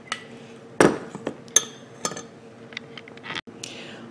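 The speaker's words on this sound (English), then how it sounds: "Give it a nice good stir." Clinks and taps of a utensil stirring a white DIY paint mixture in a container, a few sharp knocks against the sides amid softer scraping, close and fairly quiet.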